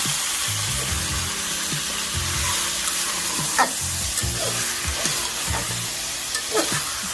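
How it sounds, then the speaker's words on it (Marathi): Chicken pieces being stirred with masala in hot oil after the browned onions, a continuous close sizzle with soft scraping strokes and occasional light knocks of the spoon, no one talking. "त्याला आपण खूप छान असं हलवून घेऊया"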